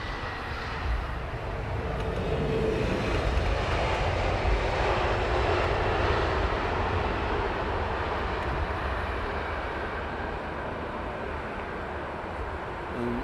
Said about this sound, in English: Next aircraft coming in.